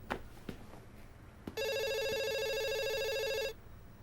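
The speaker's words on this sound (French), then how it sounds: "Quelqu'un va répondre au téléphone?" An old-style telephone bell rings in one continuous electric trill lasting about two seconds, loud and close, after a few faint knocks and clicks in a quiet room.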